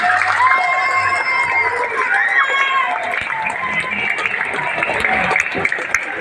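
Students clap and cheer at a school National Education Day (Hardiknas) gathering, a loud, dense wash of crowd noise with some shouting mixed in, sustained throughout, with voices audible within the hubbub.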